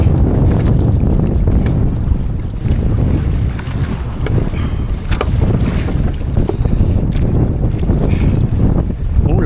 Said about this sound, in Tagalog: Malalaki ang alon. Malakas ang hangin.